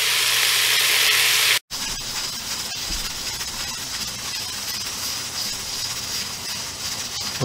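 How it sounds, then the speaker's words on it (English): Beef short ribs browning in a pan, sending up a steady, loud, hissing sizzle that runs nearly throughout, broken by one brief gap and a couple of soft knocks, with no talk. "Go ahead, brown these meats"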